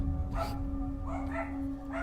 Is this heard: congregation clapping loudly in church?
no